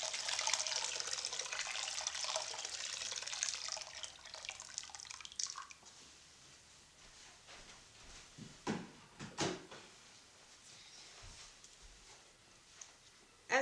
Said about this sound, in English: So I'm adding really hot water from a kettle.